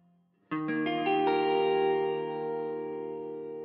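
Electric guitar with effects playing the fourth chord of a song, notes added one by one in a quick rolling strum, then ringing out alone and slowly decaying.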